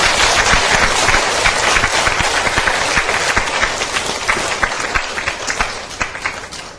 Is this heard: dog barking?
no